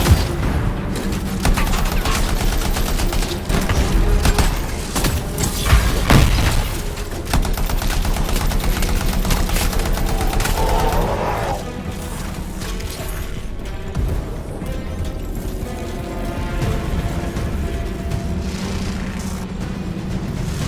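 Sustained gunfire in the video game Anthem: rapid bursts and heavy shots crackle and boom across the whole stretch, dense at first, then thinning into scattered shots over mechanical game sounds.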